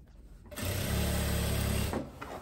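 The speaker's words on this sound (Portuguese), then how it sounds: "agora eu vou só fazer essa costura aqui fechando" Sewing machine running in one continuous burst of about a second and a half, stitching a seam on a striped linen dress, close and loud after a brief quiet start.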